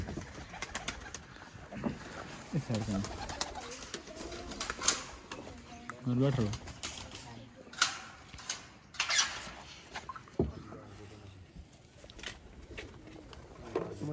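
Soft pigeon coos from rare red-eyed breeder pigeons in Chakwal, faint and intermittent among rustles and wing or handling noises, with someone speaking briefly.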